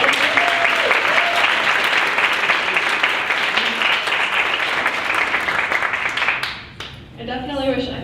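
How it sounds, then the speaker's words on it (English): Applause from an audience at a women in leadership panel discussion, dense steady clapping filling most of the stretch before thinning out, with a voice breaking through near the end. "So can we just give her a round of applause?"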